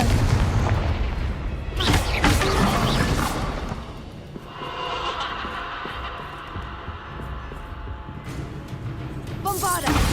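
Spell blasts from Confringo explode in Hogwarts Legacy on PS5 Pro, a dense run of loud booms and whooshing impacts, with a spoken voice over the action.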